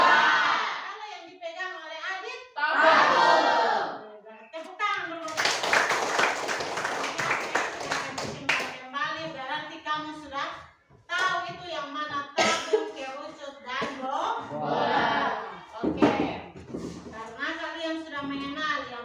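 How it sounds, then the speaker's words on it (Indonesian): Schoolchildren in a classroom break into a burst of clapping in the middle, a few seconds of dense hand claps and shouts set between stretches of a teacher's and pupils' speech. "Tepuk tangan dulu."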